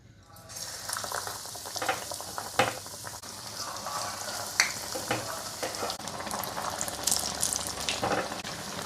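Onion bajji batter fritters deep frying in plenty of hot oil, a continuous crackling sizzle with bubbling and occasional sharp pops and scrapes close by.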